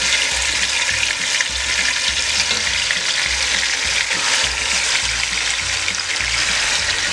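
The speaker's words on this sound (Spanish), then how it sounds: "vamos a ir friendo nuestras costillas" Steady, loud sizzling of beef ribs frying in hot oil, with a continuous crackle and occasional low clicks throughout.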